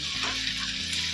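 Okra frying lightly in a pan gives a steady, close sizzle with a soft crackling hiss for about a second.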